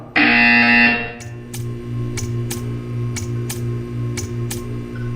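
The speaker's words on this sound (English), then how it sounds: "You will hear a buzzer." A loud electronic buzzer in Portal 2 blares for about a second, followed by a steady low hum with a series of regular soft ticks.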